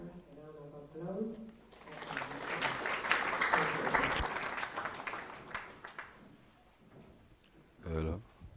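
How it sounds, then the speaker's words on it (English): Audience at a university orientation ceremony breaks into applause that swells to a dense, steady clapping and then tapers off, with a speaker's voice before and after. "Can you give the academic registrar a round of applause?"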